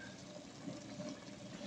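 A little water poured into a pan while cooking chicken liver and gizzards with carrots and bell pepper, a faint soft trickling splash that runs briefly and quietly throughout.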